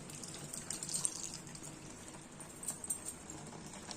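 Boiled milk is poured over bread slices for double ka meetha, a faint, soft liquid trickle and splashing with a few gentle drips, quiet and close with no talk.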